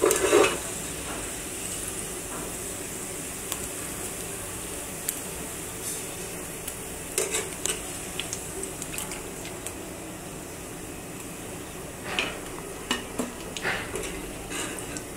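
Food fries in oil in a pan on a stove while being stirred. A continuous low sizzle runs throughout, with scattered scraping and clinking strokes of the spoon, close and moderately quiet, with no speech.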